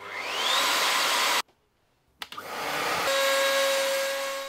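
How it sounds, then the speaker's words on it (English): Trend T14 router on a router table with dust collection running gives a loud high whine that spins up, stops briefly, then spins back up to a steady roar. "I'm going to use my Trend router table and T14 router to cut it"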